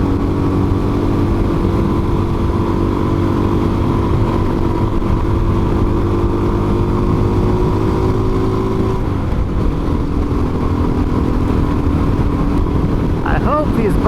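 A Suzuki DRZ400S dual sport motorcycle cruises up a canyon road in Yellowstone National Park, its engine droning loud and steady with the pitch shifting partway through, plus constant wind rush and no talk.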